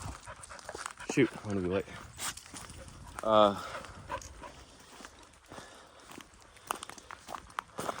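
A dog scrabbles and pads around nearby with some soft panting, mixed in with a person talking over it and a couple of short whiny vocal sounds.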